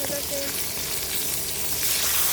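Fish frying in hot oil in a home kitchen, giving a steady, close, loud sizzle with faint stirring clatter and no talking.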